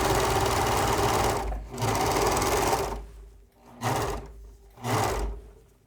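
A serger overlock sewing machine runs in loud, fast whirring bursts, stopping and starting three or four times with short pauses between.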